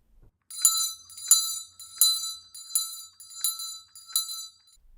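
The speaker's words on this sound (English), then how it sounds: "Bells are percussion instruments." A small set of shaken percussion bells jingles in six or seven quick, evenly spaced bursts, bright and close, each ring fading briefly before the next.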